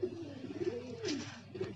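Pigeons coo in a steady, throaty run of rolling calls, close and fairly loud, with a brief louder swell midway and no talking over them.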